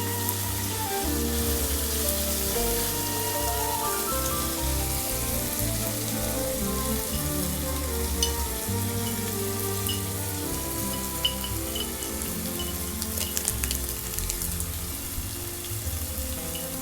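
Tomato cooking down to a paste in a pan for a palak chicken dish gives a steady, dense sizzle that runs unbroken throughout, fairly close and even, with faint clicks and a low hum underneath and no talking.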